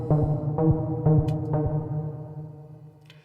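A lead synth line played in Logic Pro X with drum reverb on a bus: several sustained harmonic notes with short percussive hits about every half second, the tail fading out toward the end.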